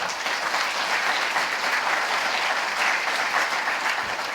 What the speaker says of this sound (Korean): 다시 한번 우리 수상자분들한테 박수 한번 주실까요?